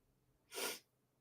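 A single short, breathy sneeze bursts out once, soft and close, with quiet stillness before and after.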